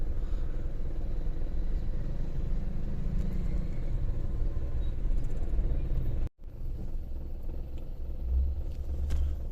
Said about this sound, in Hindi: भाई इतना बुरा ट्रैफिक मैंने कभी नहीं देखा अपनी लाइफ में।